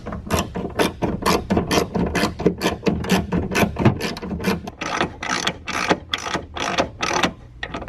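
Bolts on a rear strut bar being tightened in the wheel well of a Ford Focus, a fast, steady series of ratchet clicks running nearly continuously and close up, with no talking.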